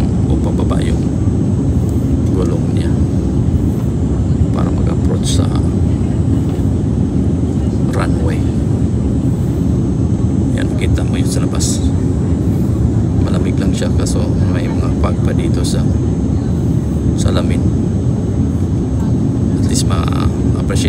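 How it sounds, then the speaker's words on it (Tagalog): Passenger airplane on approach to Frankfurt International Airport with landing gear lowering: a loud, steady roar of cabin and engine noise throughout, with a person speaking over it. "Ririnig mo yung tinig ng aeroplano, babagsak yung o pababa yung gulong niya para mag-approach"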